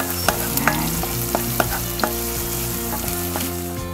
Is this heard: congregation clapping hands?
no